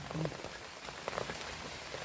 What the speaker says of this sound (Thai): บรรยากาศในป่างี้ฝนตกไปไหนไม่ได้